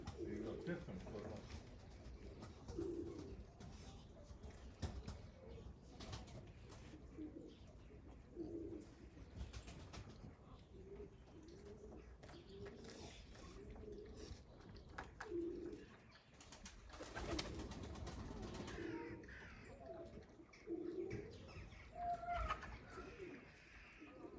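Pigeons cooing at a backyard coop, soft repeated coos scattered through a long stretch, faint and somewhat distant under outdoor background noise.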